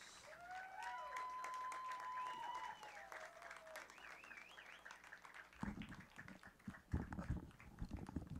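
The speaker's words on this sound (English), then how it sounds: "let's have a big round of applause for our seniors and their parents" A crowd at a high school rugby game between BC High and Lincoln Sudbury breaks into applause for the seniors and their parents. The clapping is faint and distant, coming after a quieter stretch with stray outdoor sounds.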